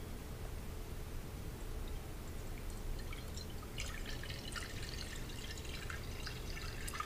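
Salt water poured carefully into a container around an empty cup, a steady soft liquid hiss with faint trickling and light splashes growing more noticeable toward the end, no talking.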